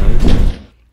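An elevator door slides shut in a Roblox traction elevator, a short loud thudding close that cuts off quickly into silence.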